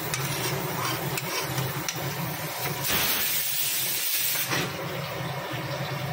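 A kitchen chimney hood roars with a broad steady hiss while a water tap runs, the wash swelling briefly louder partway through, continuous and close with no talking.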